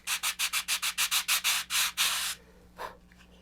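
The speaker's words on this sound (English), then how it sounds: "So sand it like this." Sandpaper rubs along the flat root edge of a multi-piece model rocket fin in about eleven steady back-and-forth strokes, close and loud, with a longer final pass and one brief scrape after a pause.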